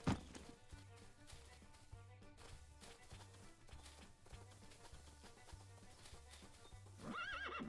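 In a video game, a horse trots with steady, rhythmic clip-clop hoofbeats, and a sharp whinny rises near the end.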